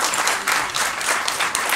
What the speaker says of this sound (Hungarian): hatalmas egy tapsot szeretnék kérni.